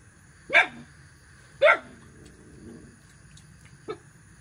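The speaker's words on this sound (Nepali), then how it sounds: "कुकुरहरू गराएर चाहिँ तपाईँहरूलाई अलिक डिस्टर्ब लाग्यो होला" A dog barks twice, loud and close, about a second apart, followed later by a fainter third yelp in an otherwise quiet setting during an evening meal of pork.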